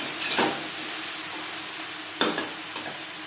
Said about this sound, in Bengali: ফোড়নের সাথে লাউ বেশ ভালো করে মিক্স করে দেব